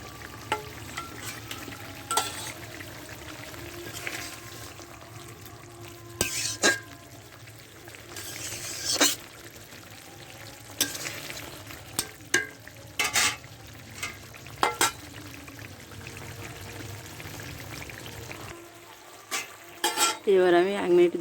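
Spices stirred and fried in oil in a pan for a khoira fish curry, quiet sizzling with intermittent clinks and scrapes of a utensil against the pot, plus a brief louder splash near the end.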